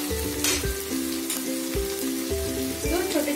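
Curry leaves and spices crackling and sizzling in hot oil for Rajasthani kadhi, loud close spitting pops over a steady fry.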